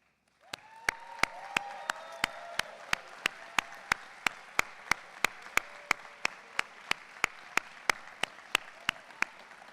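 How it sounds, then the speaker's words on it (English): An audience at the Tuck Investiture 2024 ceremony applauds student board members who stand, a broad, sustained wash of clapping punctuated by sharp, evenly spaced beats from start to finish, with no talking. "could you please stand for a round of applause?"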